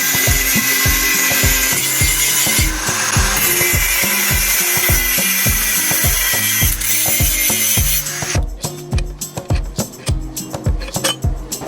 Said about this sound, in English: Next, you cut this thick round iron.